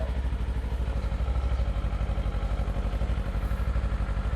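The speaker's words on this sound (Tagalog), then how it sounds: "Tunog ng KLE sa stock exhaust na may 2-cylinder 180 degree crank." Kawasaki KLE 500 twin-cylinder engine with a 180-degree crank and stock exhaust idling, a steady, even, low throbbing pulse held close and alone with no change in pitch.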